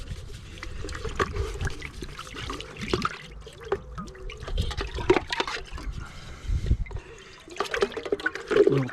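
Cold water splashes and trickles while paint is rinsed from a Wagner XVLP 5000 paint sprayer, with irregular gurgles, drips and clatter close by and no talking.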